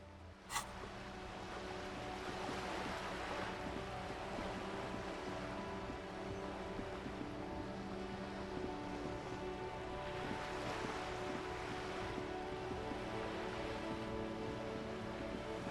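Ocean waves around a small islet in the video game Disco Elysium: steady, broad surf with slow swells rising and falling over a constant windy rush, unbroken and moderately loud across the whole stretch.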